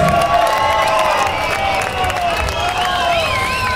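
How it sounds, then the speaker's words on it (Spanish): An audience at a 2015 rock concert in Aluche, Madrid applauds and cheers for a guitarist, a steady wash of clapping and crowd noise holding at full loudness throughout with no pauses. "un aplauso fuerte para él."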